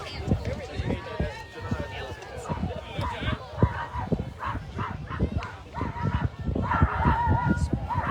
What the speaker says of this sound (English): Sounds like a bunch of dogs over in the Lady Pirate bullpen, and Jackson retires the side